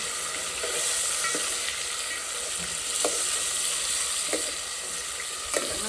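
Mutton pieces coated with turmeric and salt fry steadily in hot oil, a continuous close sizzle broken by a few soft stirring scrapes, with no talk.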